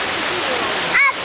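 A waterfall rushes as a loud, steady, close-up hiss of falling water. A brief high-pitched voice briefly rises over it near the end.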